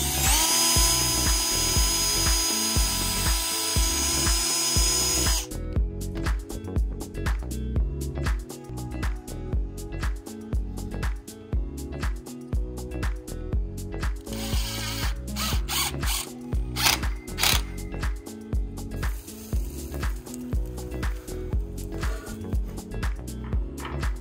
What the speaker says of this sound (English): Sinking the last couple screws in here